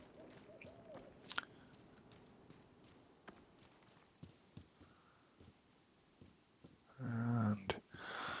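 Owl hooting in the video game The Division 2, a soft low call near the end over quiet ambient game sound with scattered light footsteps or clicks.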